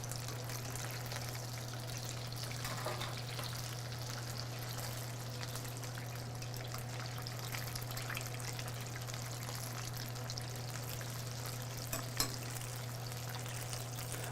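Pieces of General Tso's chicken frying in hot oil: a steady, soft sizzle and crackle that runs the whole time at low volume, with a constant hum beneath.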